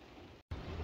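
Steady rain falling outside as a continuous soft hiss, broken by a short moment of silence before it resumes at the same level.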